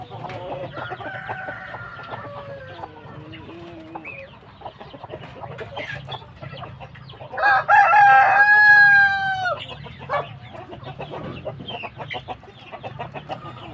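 A Rhode Island Red rooster crows once, loud and close, set among softer clucking and farmyard chatter from the flock.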